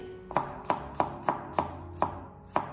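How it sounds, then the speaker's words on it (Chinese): A knife slices garlic cloves into thin slices on a cutting board, seven crisp evenly spaced chops ringing out close and clear with no talking. "接着再准备几个大蒜子，先把它改刀切成薄片。"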